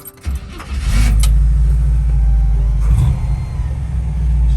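A warm Chevy C10 pickup engine cranks briefly after a faint key jingle, then catches and settles into a loud, deep, steady idle rumble close by.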